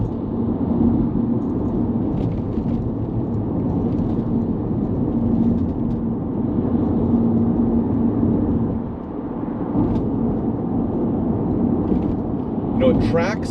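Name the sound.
2003 Audi A4 Avant 3.0 driving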